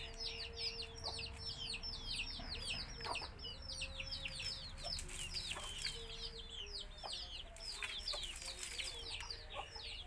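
Native Thai backyard chickens kept for sale cluck and chirp continuously, soft and somewhat distant, with repeated short calls over a low ambient hum.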